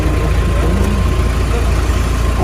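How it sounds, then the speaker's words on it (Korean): A used cargo truck's engine and transmission run steadily, giving a loud, continuous low rumble close by with no noticeable change in pace throughout. "미션 엔진 소리 너무 좋아요"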